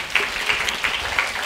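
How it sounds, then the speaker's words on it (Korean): Audience applause at the close of a Korean literary radio broadcast recorded live at an arts high school, a steady patter of many hands clapping at moderate level for the whole stretch, with no talk over it. "박수 소리가 있으니까 좋네요."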